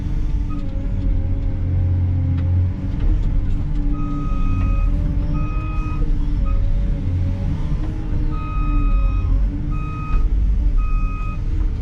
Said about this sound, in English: Oh, it just beeps when you slew.